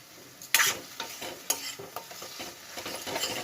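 Prawn kochu saag stirred in a pan makes a close sizzle and frying hiss, with a sharp utensil knock near the start and repeated scraping strokes after it.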